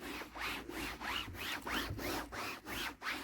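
Microfiber cloth rubbing product onto a black Ford Fiesta Zetec S, a steady rhythmic back-and-forth swishing, about nine quick strokes close to the mic, fairly quiet with no talk.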